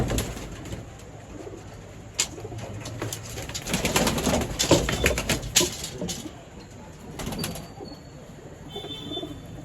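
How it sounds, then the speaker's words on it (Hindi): A red pigeon coos close by, repeating low throaty coos among sharp clicks and flutters of handling or wing movement, with a faint voice now and then. "ये दोस्तों हमारे हाथ में हाजिर हो गया है कबूतर।"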